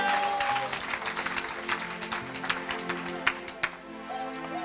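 A church congregation applauds for the Lord, a dense, steady wash of many hands clapping close by with a few sharper claps standing out.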